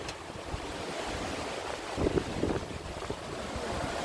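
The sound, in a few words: wind blowing at sea on a boat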